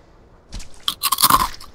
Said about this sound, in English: I got some seaweed cicadas, so hold on here, listen for the crunch.